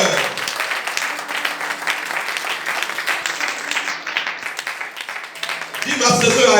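A church congregation applauds, dense continuous clapping filling the room and swelling louder toward the end, with voices mixed in beneath.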